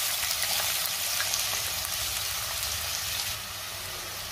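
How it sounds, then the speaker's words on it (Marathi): Onion dropped into hot oil in a wok sizzles and fries steadily, a bright continuous hiss throughout that eases slightly near the end, with no talking. "तेल गरम झालंय, त्यामध्ये मी कांदा घालते।"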